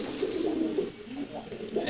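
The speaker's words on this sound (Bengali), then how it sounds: "মাশাআল্লাহ গিরিবাজ কবুতরগুলো দেখেন কি সুন্দর।" Giribaz pigeons in a loft coo in soft, low murmurs at close range, a short continuous burble with a voice talking faintly underneath.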